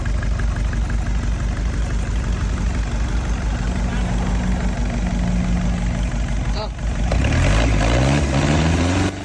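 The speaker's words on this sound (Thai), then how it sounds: "สรุปเครื่องเราก็สามารถสตาร์ติดได้อย่างง่ายดายนะ" Old engine idling with a steady, rough mechanical chug, then being revved or restarted near the end into a louder, rising roar; someone talks over it.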